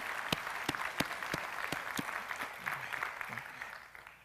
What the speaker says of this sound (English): let's give these families another round of applause